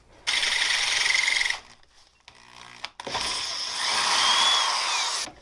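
A power drill bores 1/4 inch holes through existing pilot holes during a fork rebuild on a 1980 KZ705 LTD café racer, in two loud close whirring runs separated by a brief quieter pause.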